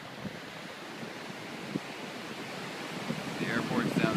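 Pacific Ocean surf washes in at Venice Beach as a continuous broad rush, with wind buffeting the microphone. The roar swells slightly louder toward the end.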